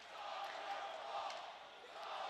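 Hockey arena crowd at a Jacksonville Icemen versus Greenville Swamp Rabbits game jeering a player, a steady broad roar of many voices with no distinct single cry standing out.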